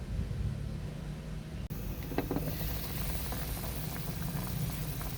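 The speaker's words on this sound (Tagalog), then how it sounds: "Pakuluan natin, palambutin." Steady bubbling boil of meat simmering in a pot of broth to soften it, a continuous dense hiss with faint pops, near and alone.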